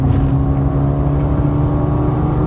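Deep exhaust roar from a 2022 Mercedes-AMG A 35 Sedan, a steady loud rumbling drone with no talk over it.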